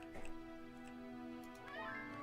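Meowing from a cat character in a cozy hidden-objects game, a few short mews over steady background game music.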